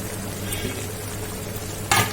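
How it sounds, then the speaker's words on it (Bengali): Dry semolina tipped into a pot of boiling water for upma, a steady hissing bubble with soft stirring and a sharp burst of sizzle near the end, close and alone. "জলটা দেখুন ভালোভাবে ফুটে গেছে। এবারে এর মধ্যে আমরা দেব সুজিটা"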